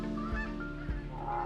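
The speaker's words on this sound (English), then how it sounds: "The whole day was filled with excitement as the geese circled around us." Canada geese honk repeatedly as they circle low over decoys during a waterfowl hunt, several overlapping calls close by and fairly loud, continuing throughout with no talk.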